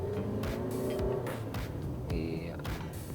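A 2023 Toyota Innova Zenix hybrid, with a 2000 cc engine paired with an electric motor, accelerates in normal drive mode. A steady, loud engine and road drone fills the cabin throughout, swelling slightly partway through.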